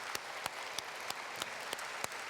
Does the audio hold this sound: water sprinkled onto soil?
no